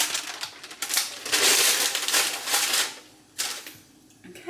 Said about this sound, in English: I'm apparently supposed to use the parchment as a sling to lift it up into the oven